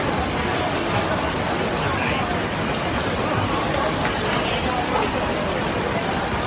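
Steady, loud rain pours down over the Jalan Alor street food strip in Kuala Lumpur, a dense continuous hiss on surfaces, with a soft murmur of diners' voices underneath.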